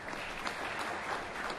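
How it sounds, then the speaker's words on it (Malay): An audience at a seminar gives a speaker a round of applause, a steady wash of clapping heard at moderate distance throughout, with nothing else over it. "Bagi tepukan."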